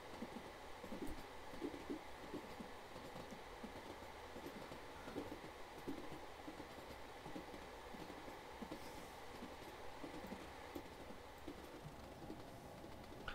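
A Class 755 passenger train runs in Train Simulator 2020 on the Lowestoft to Norwich line, giving a faint, continuous rolling rumble with soft rhythmic rail clatter and no voices.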